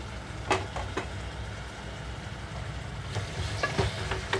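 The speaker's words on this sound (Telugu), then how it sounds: "టమాటా కొంచెం మెత్తబడిన తర్వాత కట్ క్లీన్ చేసి పెట్టుకున్న మటన్ వేసేస్తున్నాను ఇందులోకి" Cleaned mutton pieces dropped into frying tomato masala in a pan, giving a steady close sizzle broken by clusters of scraping stirs and clinks, moderately loud with no talking.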